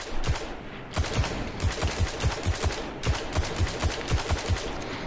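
The Khvostov exotic rifle in Destiny fires semi-automatic: a fast, evenly spaced run of about fifteen punchy shots in bursts with short pauses, loud and close.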